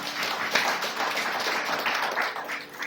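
A church congregation claps together during a Sunday sermon, a steady dense patter of many hands that holds evenly for a few seconds at moderate distance.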